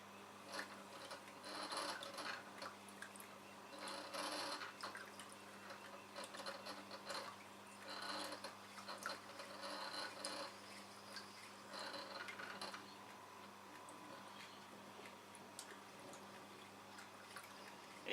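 A sharpening wheel running steadily while a chisel is polished against it, a faint continuous mechanical whir with irregular scraping bursts, no voices.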